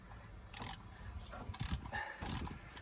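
Ratchet wrench on an extension spins a loosened bolt on a GMC 6500 truck, giving three short bursts of quick clicking with faint handling noise between, close and fairly quiet.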